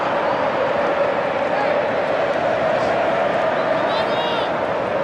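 Large Argentina football crowd inside a Houston stadium during a match against Ecuador, a steady, distant roar of cheering and chanting under close commentary that continues throughout.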